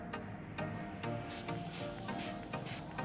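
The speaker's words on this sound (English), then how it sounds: "When I spray water onto the coated brick" Repeated short bursts of water spray hiss onto coated brick over a steady mechanical background, several sprays in quick succession at close range.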